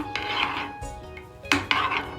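A metal pan clatters and scrapes against a stovetop, with a few sharp knocks and clanks close by.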